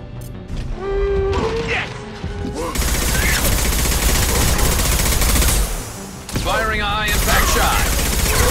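Dense, continuous bursts of automatic gunfire and clattering impacts from a Mass Effect 2 firefight against reaper swarms fill the scene loudly, while game characters shout briefly at the start and near the end.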